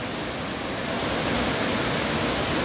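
Twin Falls waterfall in Dimiao, a dense broadband rush of falling water that stays steady and loud from start to finish with no other sounds standing out.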